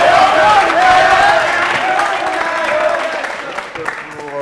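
Audience applause for a fifth graduating class on a Burkina Faso TV entertainment show, steady dense clapping with crowd noise filling the whole stretch, while a voice talks over it.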